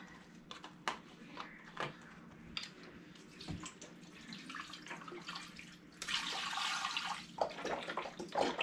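Liquid pours and splashes into a kitchen pot, first light irregular dribbles and clinks, then a louder steady pour of chicken broth over chicken near the end, close and fairly quiet.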